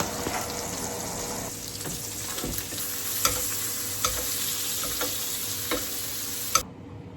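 Meat fries in a pan with a continuous sizzle and spattering crackle, broken by occasional sharp clicks and knocks of a utensil. Sound is close and fairly quiet, with no talk.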